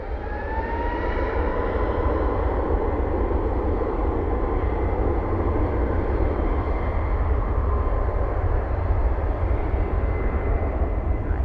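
A Boeing 777 departs DFW airport at night, a steady, broad jet roar rumbling continuously at a distance with a faint rising whine.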